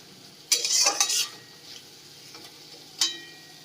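Curry base for katla fish curry frying in a pan, quiet faint sizzle broken by a couple of short bursts of spatula stirring and scraping, with a single clink near the end.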